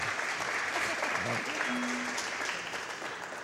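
A burst of clapping from a small group at a speedrunning event fills the moment, steady and fairly close, fading slightly toward the end.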